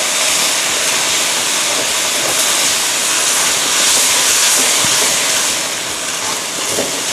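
Pre-boiled ginkgo nuts stir-fry in a hot pan, giving a loud, constant sizzle and hiss that holds steady throughout with no voices.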